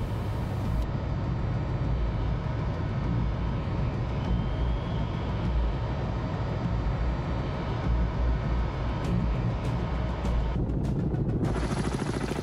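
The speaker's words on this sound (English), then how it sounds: "Helicopter. God damn it." Helicopter in the submarine game Cold Waters, a steady broadband rotor and engine drone, loud and unbroken, cutting out sharply near the end.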